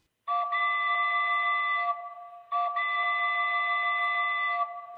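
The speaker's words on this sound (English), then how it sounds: "let's check out the onboard whistle." Onboard whistle of a Lionel Vision Line Big Boy model train caboose, two sustained steady toots of about a second and a half each, clear and close with silence around them.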